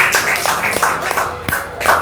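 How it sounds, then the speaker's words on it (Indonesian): Classroom applause for a student group, steady dense clapping from many hands filling the room for two seconds, with a few sharper individual claps standing out. "ya tepuk tangan untuk kelompok 1"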